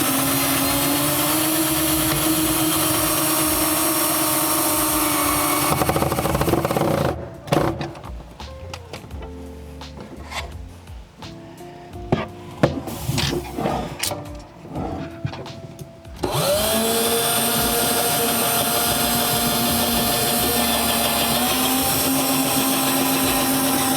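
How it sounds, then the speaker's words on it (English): A power tool drives screws into a cabinet track for a trash can cabinet, whirring loud and steady, then breaking into short clattering bursts and pauses before spinning up again. "You want to screw that into place so it stays."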